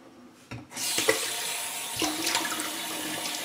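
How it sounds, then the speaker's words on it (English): Running tap water for a quick cold rinse after a shave, a sudden steady rush of splashing water that starts after a brief knock and continues close and loud. "Quick cold rinse."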